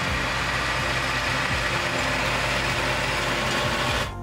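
The engine of a John Deere 8370RT crawler skidder with a 370 horsepower engine drones steadily and loudly, a deep continuous rumble close by that cuts off abruptly at the end.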